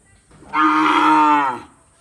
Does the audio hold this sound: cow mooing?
yes